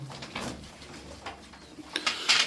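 Ankara Sütbeyazı show pigeons, a white tumbler breed, cooing softly and intermittently at close range, with fluttering and rustling bursts near the end and no talking.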